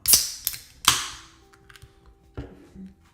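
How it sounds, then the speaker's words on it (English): A cold drink can cracked open, with a sharp pop and hiss followed by a second crisp snap, then a quieter clink and fizz, close to the mic with no talk. "Cracking open a cold one to Goldie on the run."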